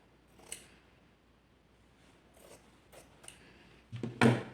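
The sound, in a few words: scissors cutting fabric strips in half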